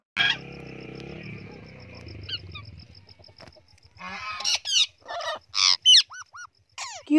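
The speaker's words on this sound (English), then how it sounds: "P for Parrot." Squawking parrot calls, a series of loud harsh bursts coming one after another, alone with no talk, following a softer bird-like stretch at the start.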